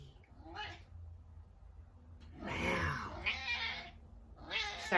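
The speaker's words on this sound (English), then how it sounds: "sorry, my cat just arrived." A house cat meows several times, in short plaintive calls close to the microphone, mixed in with a person talking quietly.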